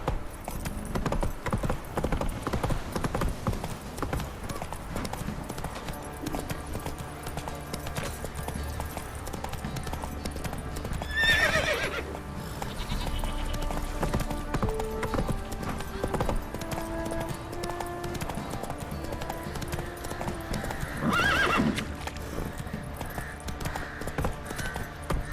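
Roach the horse trotting in The Witcher 3, continuous rhythmic hoofbeats throughout with two short whinnies along the way, game music faintly underneath.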